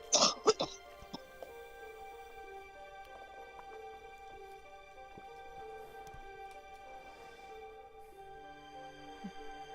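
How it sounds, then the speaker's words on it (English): A person coughs and clears their throat in a short burst of several harsh coughs at the start, then goes quiet while a faint steady background tone continues. "Sorry for all the coughing."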